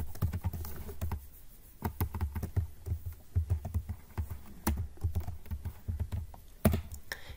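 Code being typed on a computer keyboard, a quick run of close, crisp key clicks in uneven bursts with brief pauses between.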